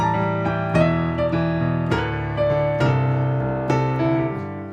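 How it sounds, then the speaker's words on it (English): A piano plays fast sixteenth-note runs in an epic solo style, dense, bright and sustained, with rippling repeated notes and periodic accented chords, close and loud without any speech. "So 16th notes sound like this."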